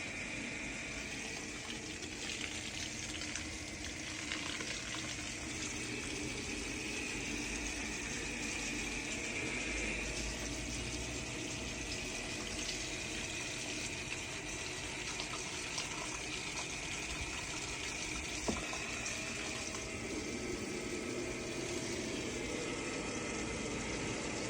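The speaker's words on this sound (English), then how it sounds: "Let's get the rest of this pumped out." Converted cordless pump, a Milwaukee 12V unit adapted to a Makita battery, runs steadily while pumping out water, giving a continuous gushing, rushing wash with a faint motor hum underneath, unbroken and fairly near throughout.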